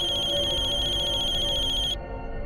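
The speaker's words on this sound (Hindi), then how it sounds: "फोन उठाओ वीरेन, फोन उठाओ" An electronic phone ringtone trills steadily in a tight repeating pattern, then cuts off abruptly near the end, leaving low background rumble.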